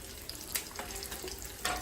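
Dried red chilies frying in oil for Andhra mango pulihora, a faint, steady sizzle with a few soft pops and stirring clicks.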